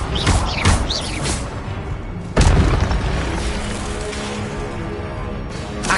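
Fiery spell bursts in a Hogwarts action game: a loud booming blast near the start, then another heavy whooshing explosion at mid-clip, with rumbling game combat sound carrying throughout and no speech.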